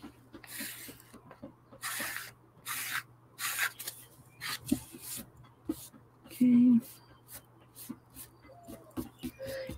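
Soft, repeated rubbing and swishing strokes as hands smooth a freshly glued art journal cover, intermittent brushing bursts under a low steady hum with faint handling noise.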